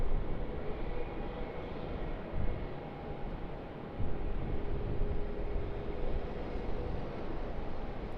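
A Qantas airliner takes off from runway 34 left at Sydney Airport, producing a steady, broad jet roar that holds at an even level with slight swells, heard from a distance with no voices.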